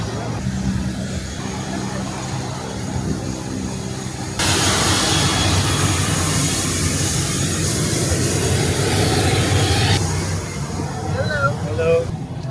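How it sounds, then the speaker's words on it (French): Airliner jet engines drone during boarding for a flight to the Bahamas, a steady broadband roar that steps up louder partway through and later eases, with faint voices underneath. "On va prendre l'avion."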